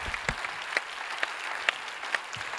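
Audience applause fills the hall at the closing plenary of a territorial-affairs conference, a steady, dense clapping from a large crowd with sharp individual claps standing out, moderately loud and without talk.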